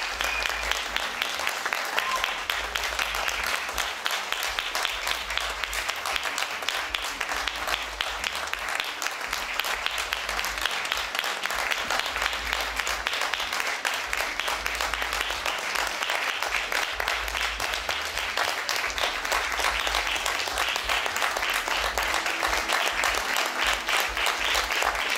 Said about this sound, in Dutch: We vragen een minuut applaus.